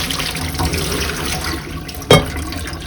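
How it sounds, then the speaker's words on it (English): Soaked beans being drained while water runs steadily from a kitchen tap, a continuous splashing hiss with a brief louder gush near the end, close by and without speech. "drain the beans"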